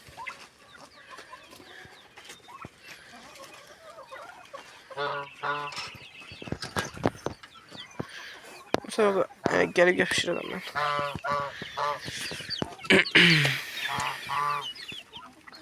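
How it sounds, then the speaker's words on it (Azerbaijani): A handsome rooster and hens in a garden give repeated clucks and short squawking calls in bursts, fairly near, with a person talking over and between them. "Çox qəşəng xoruzdur"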